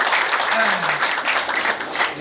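Audience at a Rwandan wedding and dowry ceremony claps in a dense, steady wash of applause, with a voice briefly rising over it.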